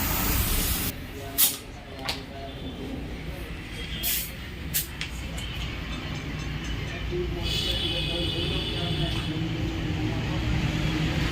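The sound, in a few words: compressed air blowing on motorcycle wheel bearing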